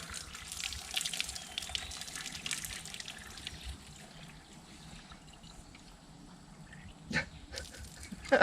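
Water pours and splashes fairly quietly into a container, with a few louder splashes near the end.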